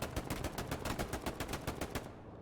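Sustained rapid gunfire in the World War II shooter Hell Let Loose, a dense rattling burst of automatic fire that goes on throughout with no pauses, fairly close, and fades out at the very end.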